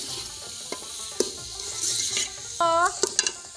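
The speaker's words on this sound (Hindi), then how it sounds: "ये जी रात वाला शलजम वाला सालन बचा हुआ गरम हो रहा है।" Leftover turnip curry reheating in a pan in a Pakistani village kitchen, giving a soft, steady sizzle with light stirring and a few clinks of utensil against metal close by.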